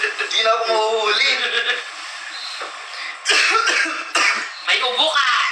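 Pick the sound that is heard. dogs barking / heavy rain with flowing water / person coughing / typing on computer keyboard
person coughing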